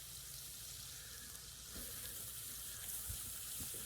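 Onions and garlic with a little salt frying in a pan, a soft, steady sizzle with faint stirring clicks and scrapes, quiet and close, with no voices.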